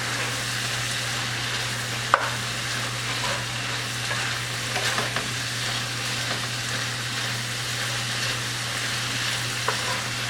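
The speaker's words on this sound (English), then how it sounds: "So just let the meat cook for a little bit with the onions" Meat and onions frying in a pan for spicy shrimp and chicken pasta, a continuous close sizzle with a few light clinks and stirs, no voices.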